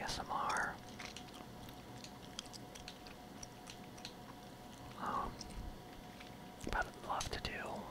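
Gum chewing right at the microphone, soft wet smacks and squishes in irregular clusters, mixed with quiet whispering.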